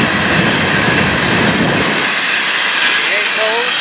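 A Florida East Coast freight train rolls past, a string of empty hopper cars following tanker cars, giving a steady loud rumble and rail noise that fades in the low end partway through, with faint wheel squeals near the end.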